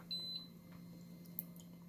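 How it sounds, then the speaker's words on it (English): A short, high electronic beep from an Ames infrared pyrometer, one clear tone near the start, faint and close over a low steady hum, with a tiny click later. "And it also does seem to beep"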